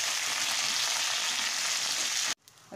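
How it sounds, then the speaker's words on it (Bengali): Okra sautéing in hot oil in a pan, a loud steady close sizzle that cuts off abruptly near the end. "আর একটু ঢ্যাঁড়স, এগুলো আমি একটু সাঁতলে নিচ্ছি।"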